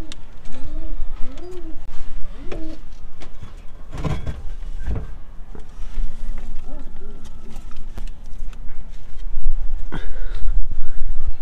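Pigeons in a coop give several soft, rising coos near the start, then scattered bumps and background noise, with voices in the surroundings.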